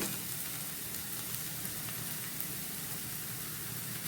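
Ginger garlic paste sizzling in a frying pan with tomatoes, cooked in AMC cookware: a steady, even crackle and hiss of frying that runs unbroken from start to end at close range, with no talk.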